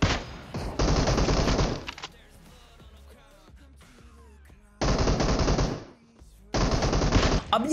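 Bursts of rapid automatic gunfire in a mobile battle-royale shooter game, loud and close, two long sustained volleys separated by a quieter gap, then two more bursts.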